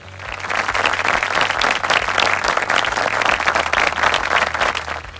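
Loud, sustained applause from a live audience fills the hall, steady dense clapping welcoming a team onto the stage at a family Bible quiz show, with a low hum running underneath.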